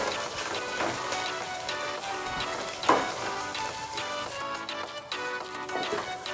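Capsicum, carrot, cabbage and beans sautéing in a hot pan for chicken noodles, a steady close sizzle with occasional stirring scrapes and a brief louder clatter.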